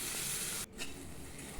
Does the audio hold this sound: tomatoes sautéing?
yes